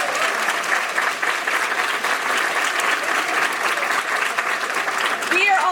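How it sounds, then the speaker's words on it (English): Audience applause at an awards presentation honoring women in Louisville, a dense, steady clapping from a room full of people lasting several seconds. "Give them all a round of applause."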